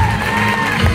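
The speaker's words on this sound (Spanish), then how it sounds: "Vamos a recibirla con un muy pero muy fuerte aplauso, amigos" Continuous crowd noise at a fifteenth-birthday party as the guests welcome the birthday girl, a steady wash of applause and cheering, loud and close.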